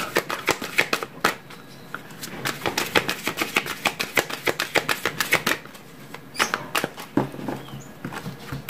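A deck of oracle cards being riffled and shuffled by hand, a rapid series of crisp papery flutters and slaps in bursts, close and clear with no talking.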